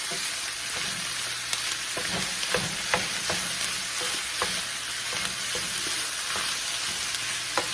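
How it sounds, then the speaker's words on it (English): Sausage with onions and peppers sizzles steadily in a pan for a breakfast casserole, with repeated scraping and stirring strokes of a utensil cutting through the constant frying hiss, close and alone. "We're just getting this grounded up and making sure the onions and peppers are throughout the sausage."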